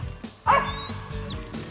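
Hunting dogs, mountain curs or feists, give a quick series of yips and barks at close range, with a strong bark midway and whining calls between, no talking over them.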